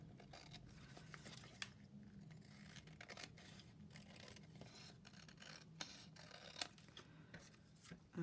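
Scissors fussy-cut around a paper motif for a happy mail craft, making faint, close snips and soft paper rustles at an irregular pace against quiet room noise, with one louder handling knock at the end.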